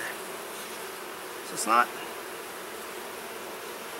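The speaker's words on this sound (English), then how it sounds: "there's a decent number of bees here" Honeybees buzz steadily inside a queenless hive opened during an inspection, a constant low hum with a brief louder rise near the middle as a bee passes close, under a few quiet spoken words.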